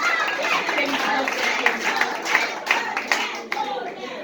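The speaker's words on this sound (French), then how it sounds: "Encore une fois, on applaudit Odelle." An audience applauds a contestant at an awards ceremony, steady dense clapping of many hands throughout, with scattered louder individual claps and a voice speaking over it.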